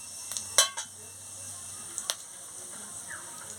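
Dried chilli, bay leaf and whole cumin stirred in hot oil in a cooking pan, a spatula giving a few sharp, quiet metallic clinks against the pan over a soft background hiss.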